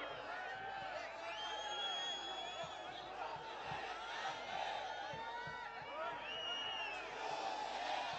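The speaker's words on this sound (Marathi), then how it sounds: "त्या माणसाला आपण अगदी जोरदारपणे टाळ्या देऊयात" A large crowd at a Shiv Sena political rally cheers and claps in a steady roar, with shouts and whoops rising over the dense applause throughout.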